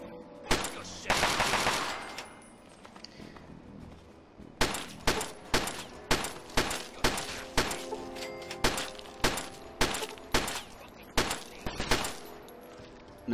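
Gunfire at roaches in the video game Fallout 3: after a brief opening rattle, a steady series of about a dozen evenly spaced single shots rings out, loud and close with short echoing tails.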